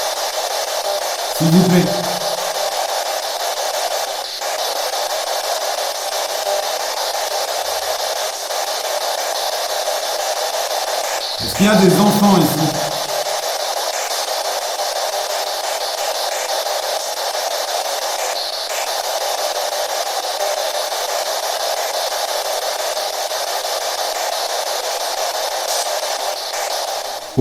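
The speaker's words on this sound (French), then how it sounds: "appareil balaye les fréquences radio AM et FM" A radio spirit box sweeping AM and FM frequencies gives off a constant loud hiss of static, running unbroken throughout, while a person speaks French a couple of times over it.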